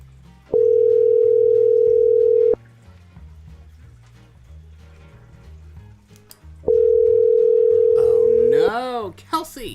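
An outgoing phone call rings back with two long, steady single-pitch tones about two seconds each, separated by a gap of quiet background music, with speech nearby.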